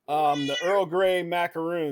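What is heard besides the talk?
cat meowing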